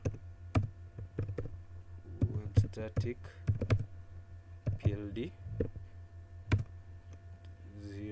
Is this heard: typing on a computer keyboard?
yes